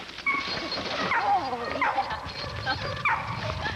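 A bulldog whimpers and gives several short high yips in a kennel yard, the cries rising and falling in bursts over steady background noise, with someone talking nearby.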